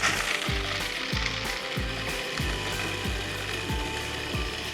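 A food processor grinding graham cookies into a fine crust, a loud continuous mechanical whir with a rhythmic ratcheting pulse of crumbs tumbling against the blade, close and steady throughout.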